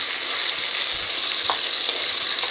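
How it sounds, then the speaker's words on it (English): Capsicums and blended tinned tomato cook in a wok with a dense, steady sizzle and frying hiss that runs close and loud for the whole moment, with faint stirring scrapes. "the capsicums in the wok, they've been cooking for a little bit"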